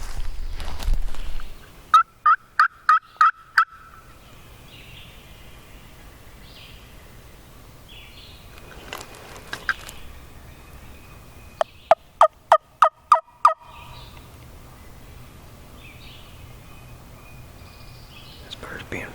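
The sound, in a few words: wild turkey gobbler gobbling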